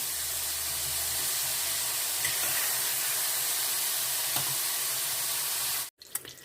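Garlic and pepper fry in hot oil for an eggplant salad, giving a steady, even hiss and sizzle that runs close and alone, then cuts off abruptly just before the end.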